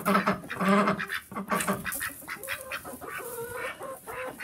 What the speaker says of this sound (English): She's our old chicken.